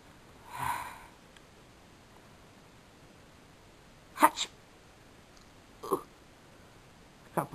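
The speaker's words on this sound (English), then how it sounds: "That caused me to sneeze." A single sneeze near the start, followed by a few short sniffs and snorts scattered through an otherwise quiet stretch.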